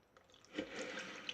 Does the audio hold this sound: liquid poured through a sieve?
yes